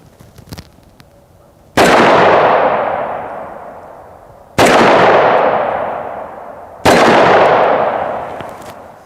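Three loud, sharp handgun shots at spaced intervals, fired from .45 ACP and .357 Magnum pistols into AR500 steel body armor, each a sudden crack with a long ringing decay.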